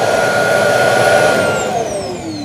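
A Shark PowerDetect dock auto-empties a robot vacuum with a loud, steady suction roar that shifts pitch partway through and eases slightly toward the end.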